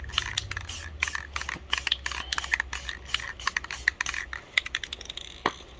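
Pink spray paint misted in a light dusting onto glass from an aerosol can, a close hissing spray broken by short bursts and clicks, fairly quiet with no talking.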